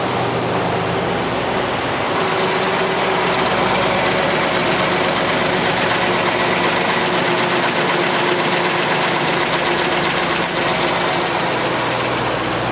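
A motorhome engine idles loud and steady up close with a fast, faint lifter tick running through the rumble.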